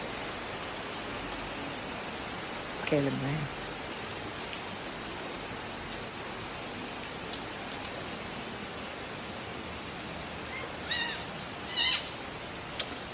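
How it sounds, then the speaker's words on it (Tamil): Steady rain falls in Kanyakumari, a constant hiss of drops on surfaces filling the whole scene, with a few brief distant calls and a short spoken word over it. "அந்த மழையோட சவுண்டு செம்மையாக இருக்குது"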